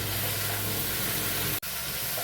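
Almond and raisin paste sautéing in a pan with cauliflower for a vegetarian Gobindobhog rice dish, giving a steady broadband sizzle and hiss that is broken by a brief dropout near the end.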